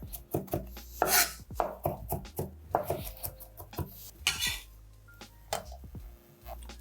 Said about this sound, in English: we're just gonna go chop all the way through, and I'm just gonna keep fanning my blade all the way through until we get a nice mince on this garlic